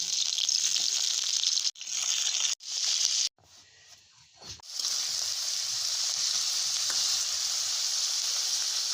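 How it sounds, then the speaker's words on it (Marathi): Eggplant frying in hot oil in a kadhai gives a loud, steady sizzle, briefly cut off a few times early on before a continuous hiss resumes and carries to the end. "तेल तापलं की त्यामध्ये हे वांगी टाकून घ्यायची आहे"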